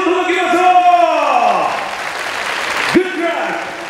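Applause for players at a women's table tennis T-League event, the Nojima Cup, with clapping and crowd noise under loud, sweeping announcer-style voice and music.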